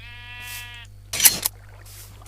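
Sheep in the Minecraft video game bleats once, a short wavering harmonic cry, followed by a burst of clicking and rustling game noise.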